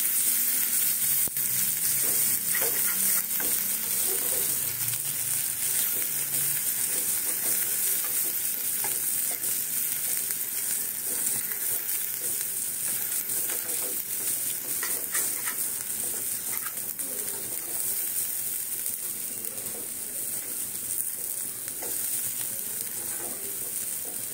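Boiled lentil filling frying in a pan with a continuous sizzle, stirred steadily with a spatula that scrapes and taps the pan in a loose repeating rhythm, close up and without talk.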